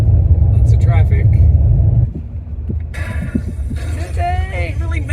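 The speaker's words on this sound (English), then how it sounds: "Lots of traffic." Traffic rumbles loudly on I-95 near SeaWorld, with a dense low roar for the first two seconds that then eases into a steadier drone, and voices talk over it.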